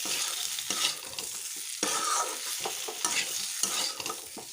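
Finely chopped onions fry in a pan over low heat, giving a steady close sizzle broken by brisk stirring and scraping strokes, with no talk.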